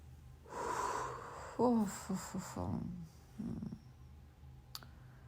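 During a meditation pause in a home full-body workout and stretch session, a person breathes deeply in and out. The breaths are close and wheezy, with a short voiced sound partway through, followed by quieter exhaling.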